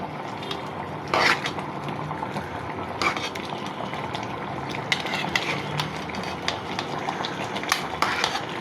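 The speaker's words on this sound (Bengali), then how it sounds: "এটা এখন নাড়াচাড়া করে দিব মিষ্টি কুমড়ার" Pumpkin with urad dal powder being stirred in a pan, a low bubbling simmer broken by repeated scrapes and light clinks of a spoon against the pan.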